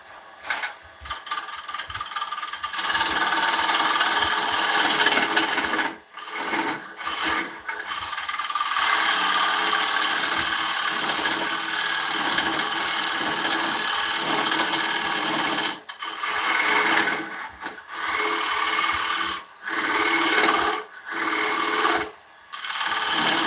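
Wood lathe turning an oak live edge winged bowl at about 700 rpm, with steady, loud scraping and rasping of the gouge on wood. The cutting rises and dips in level over the length, with brief gaps where the tool lifts off.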